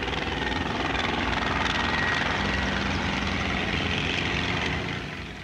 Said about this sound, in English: A tiny Skeeter helicopter shows that even waltzing is within its scope.